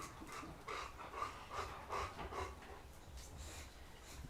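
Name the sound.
dog panting and paws pattering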